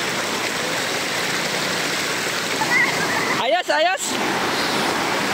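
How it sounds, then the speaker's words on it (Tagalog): A waterfall at Clarinda's Farm gives off a steady, broad roar of running water that fills the whole clip, with someone speaking briefly over it near the end. "Running water."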